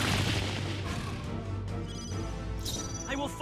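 Fire attack spell cast in the role-playing game Metaphor: ReFantazio, a roaring, booming burst of flame that sustains loudly for several seconds with crackling texture and faint bright tones near the end.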